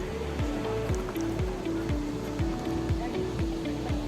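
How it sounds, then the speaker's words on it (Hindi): Tincha waterfall near Indore in monsoon season pours with a steady broadband rush of falling water, while a faint repeating tonal pattern pulses underneath at moderate loudness. "पानी के गिरने की आवाज़ सुनाई देती है"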